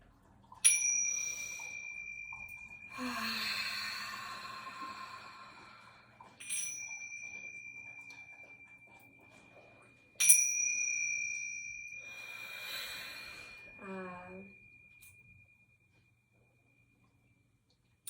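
Bright metallic chimes ring out several times, each strike sustaining a long shimmering tone that slowly fades, with soft rustling between strikes.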